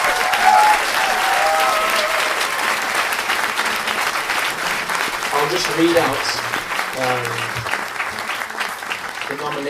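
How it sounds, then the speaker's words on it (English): An audience at an annual family gathering applauds an award winner with loud, sustained clapping that continues as a voice starts speaking over it. "maybe we can give her a massive round of applause"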